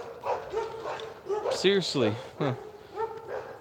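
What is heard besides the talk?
dogs barking during a live stream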